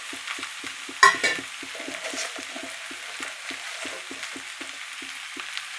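Green chillies frying in oil in a pan, a soft steady sizzle under a regular rhythm of spoon strokes scraping the pan, with one louder clatter early on.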